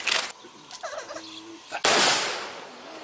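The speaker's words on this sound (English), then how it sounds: "Gunshots rang through the village as soldiers fired their rifles as part of the military funeral" A sharp rifle crack, then a second loud volley around the midpoint that decays slowly into a long rumbling echo, with faint bird chirps between, as soldiers fire at a military funeral in a village.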